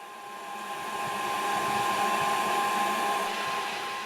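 A popcorn popper roasts green coffee beans during the drying stage near 300 degrees, its heater just switched off; a steady, fairly loud blowing whir with a tonal hum runs continuously, swelling slightly and holding level throughout.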